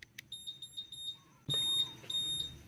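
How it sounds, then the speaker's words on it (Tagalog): Motorcycle anti-theft alarm chirps in a rapid repeating beep pattern, quieter at first, then a louder, denser pattern of high-pitched tones. "pwede nating i-adjust yung volume ng alarm sound or yung answer back ng ating mga motor"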